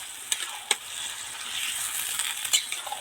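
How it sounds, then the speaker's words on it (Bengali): Pumpkin and pui shak curry being stirred in a pan after a splash of water is added, with a steady hiss of simmering and a few sharp scrapes and clinks of the spoon against the pan, close up with no voices. "এবার একটু সামান্য জল দিয়ে দেব ভালো করে নেড়ে ছেড়ে জলটা মিশিয়ে দেব"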